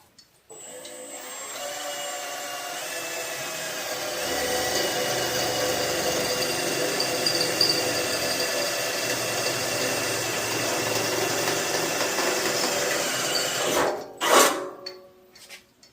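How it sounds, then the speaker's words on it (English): A power drill runs continuously for over ten seconds while boring out a corner hole in a part for an offroad lawn mower build, a steady whining drone that surges near the end before stopping. "Didn't drill out enough, so gotta drill out a little bit more."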